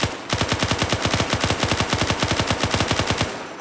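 A modded machine gun fitted with a bipod in the Unturned video game fires one long, rapid, evenly spaced burst of about three seconds, loud and close, with nothing else heard.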